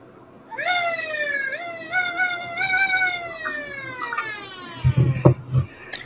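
A spinning mechanical siren winds up into a rising, wavering wail that holds and then slowly sags in pitch. A few heavy thumps come near the end, and the siren sounds fairly close.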